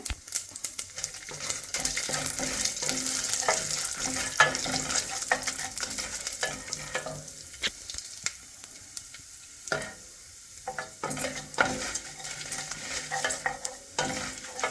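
Peanuts and red chillies fry on a low flame, a steady close sizzle broken by irregular scraping stirs and light clicks of the pan, with no talking.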